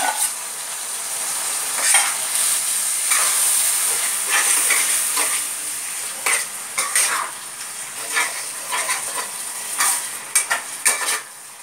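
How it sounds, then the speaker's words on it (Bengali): Chopped chicken frying in a pan for Bengali chicken bharta while being stirred: a constant hot sizzle with repeated scraping and clinking of a utensil against the pan, close and fairly loud. "এবার আমরা কুচি ধুয়ে কুচিয়ে রাখা চিকেনটা দিয়ে দিচ্ছি"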